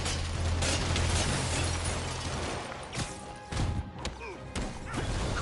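Spider-Man brawls with street punks in the remastered video game, a loud, dense run of thuds, whacks and crashing impacts over a steady low rumble, with sharper hits clustered near the middle.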